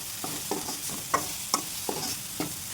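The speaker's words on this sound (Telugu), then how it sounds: "బెండకాయలు ఫ్రై చేసుకునేటప్పుడు కొంచెం సాల్ట్ వేసుకొని ఫ్రై చేసుకోండి." Okra fries with salt in a pan, giving a soft steady sizzle with rhythmic spatula scrapes and stirs about every half second, close and moderately quiet, with no talking.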